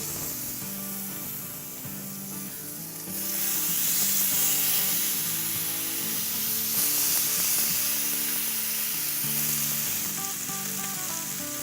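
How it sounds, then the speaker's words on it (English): A salmon fillet hits a preheated skillet and fries with a continuous bright sizzle that grows louder after a few seconds, heard beneath soft background music. "So now we have nice preheated skillet. So now we will cook our fish."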